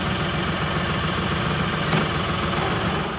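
A tractor engine idles nearby with a steady, loud, dense rumble and mechanical vibration, with no talk over it.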